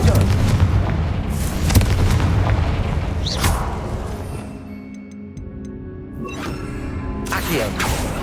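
Repeated fiery spell explosions in Hogwarts Legacy, loud booming blasts with rumbling decay, several bursts spread across the span over a dense game soundscape.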